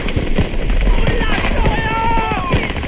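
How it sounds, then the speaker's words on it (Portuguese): Grenade explosion in Call of Duty WWII gameplay amid loud battlefield gunfire, with bursts of shots and blasts under continuous shouted voices and wartime game sound. "Lançando granada!"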